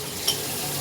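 Onion, garlic and ground spices sizzle softly in a pan while a spoon stirs them, with a single light scrape partway through a brief, steady fry.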